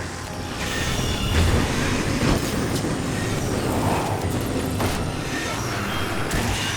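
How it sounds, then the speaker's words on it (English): In the Resident Evil 6 video game, a train strikes an enemy, giving a loud, sustained rumbling roar with clattering bursts that carries on for several seconds. "he still got hit by the train"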